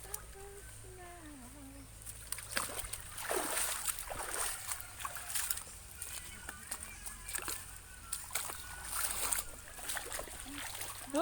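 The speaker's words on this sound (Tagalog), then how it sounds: "Dito na tayo dumaan sa tubig." Several people wading through water, with intermittent splashes and sloshing steps building up over the clip, close and moderately loud under background noise and occasional voices.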